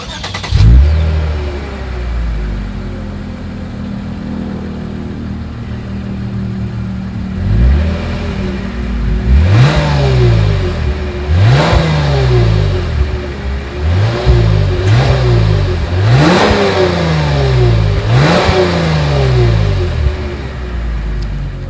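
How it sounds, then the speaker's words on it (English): A 2020 Lexus IS 300 F Sport exhaust, heard close up at idle and then through a series of sharp revs that rise and fall, with several quick blips in succession, loud and with no talking. "As always, here is that exhaust clip."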